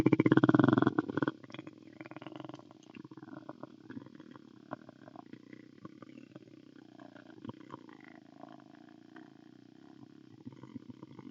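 A person imitates a cat's purr using a low, continuous throat rumble, steady and close, starting with a louder burst and then settling into a softer, even vibration.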